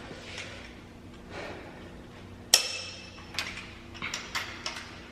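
Torque wrench set to 70 foot-pounds, fitted with a 1/2 to 3/8 inch adapter, tightening bolts during an LS engine swap. One sharp click stands out against a quiet hum, followed by a few lighter metallic ticks and taps.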